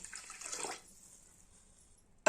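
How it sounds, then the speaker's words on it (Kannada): Water poured into a pressure cooker holding rice, a brief splashing gush that fades into a quiet hiss, followed by a sharp knock at the end. "ಇದ್ರದಾಗ ಒಂದು ಲೀಟ್ರಿಂದ ನೀರು ಹಾಯ್ಕೊಲತ್ತೀನಿ"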